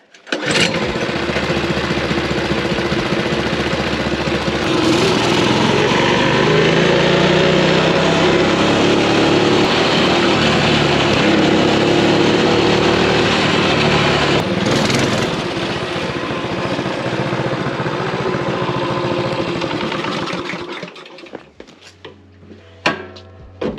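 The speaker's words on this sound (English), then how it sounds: "once you remove it, this thing pops like a Harley" Motorcycle with the muffler removed, its loud raw exhaust running close and steady for most of the stretch, with uneven pops and crackles, before cutting off near the end.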